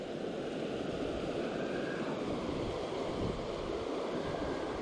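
Steady, broadband wind roars without a break beside a trout river, constant and fairly loud, blending with rushing water and microphone buffeting and no voices.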